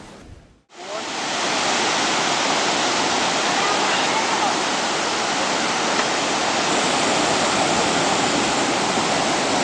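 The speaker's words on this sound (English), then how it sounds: "this is Costa Rican beach. And this is the surf lesson" Steady broadband roar of surf breaking at a Costa Rican beach, continuous and loud after a brief quiet start, with a voice faintly present beneath the wash.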